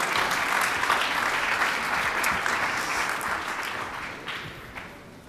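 Steady, full audience applause in a hall welcoming panel guests onto the stage, continuous and fairly loud, fading slightly toward the end.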